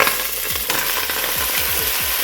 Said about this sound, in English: we are going to fry up that okra